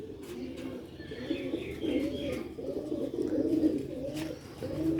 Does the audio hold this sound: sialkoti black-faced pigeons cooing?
yes